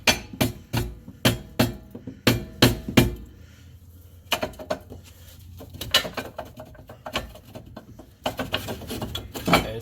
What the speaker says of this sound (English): I'm going to take my rubber mallet here from the back.